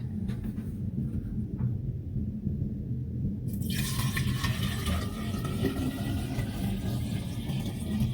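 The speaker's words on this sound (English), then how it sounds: "what I'm going to do is add water to this vase" Water poured into a glass vase for a hydroponic African violet setup, a steady broadband splash and trickle that starts abruptly about midway and continues close and fairly loud to the end, over a low background hum.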